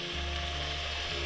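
A pan of sautéed onions sizzles hard as brandy is poured in to deglaze, a steady, close, dense hiss with no talking.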